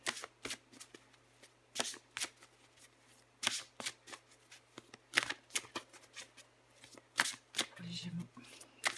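Playing cards are shuffled in a series of quick riffling bursts, close and crisp, repeating every second or so, with a steady low hum in the background and a short voiced sound near the end.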